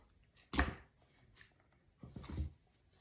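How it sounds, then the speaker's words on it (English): A knife cuts a few slices into dough before baking, two soft, quick scoring strokes against a board, close and fairly quiet, with hush between them. "So make a few slices."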